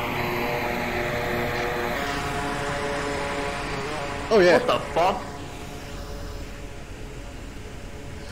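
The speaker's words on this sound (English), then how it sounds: "This guy's got a drone" Hovering drone in the VR shooter Onward, a steady propeller whine droning under the whole stretch while players talk and exclaim over it.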